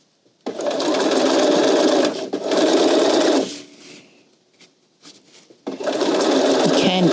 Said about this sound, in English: I stitch right sides together along the long side, just a narrow